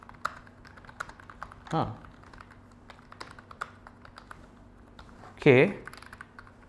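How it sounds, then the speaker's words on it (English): Keys clack on a Philips G294 gaming keyboard, a steady scatter of light close-up taps with a couple of brief spoken interjections over them. "based on the typing experience of this Philips G294 gaming keyboard"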